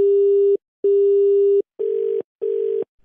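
Telephone busy tone sounding right after a call is cut: a steady, loud electronic tone pulsing on and off in regular bursts, close and clear with no voices.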